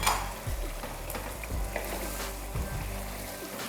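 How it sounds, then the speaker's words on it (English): Okra soup with smoked Titus fish is stirred gently in a pot, with soft scraping strokes every second or so over a continuous bubbling sizzle close by. "Have to stir carefully"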